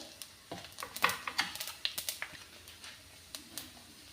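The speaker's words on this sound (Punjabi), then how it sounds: "ਆਪਾਂ ਜੀ ਕੜਾਹੀ ਦੇ ਵਿੱਚ ਪਾ ਰਹੇ ਹਾਂ ਜੀਰਾ" Cumin seeds drop into hot oil in a kadai and sputter as a scatter of sharp, faint crackles and pops, irregular and close, with no speech.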